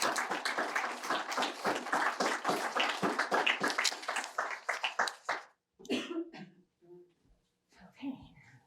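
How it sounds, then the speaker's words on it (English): Audience applause at a lecture welcoming a guest filmmaker, dense steady clapping for about five seconds that stops abruptly, followed by a few scattered claps, coughs and small rustles in a quiet hall. "a round of applause"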